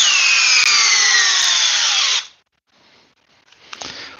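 A brushless power drill drives a fastener in one long, loud, close whine that slows in pitch for about two seconds and then stops, followed by quiet handling and a light scrape.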